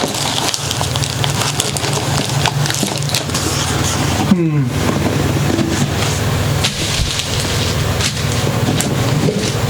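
Strong wind gusting and rumbling steadily outdoors during repair work, loud and continuous with a brief break partway through.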